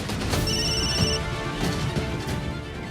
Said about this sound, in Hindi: किडनैपर्स का फोन।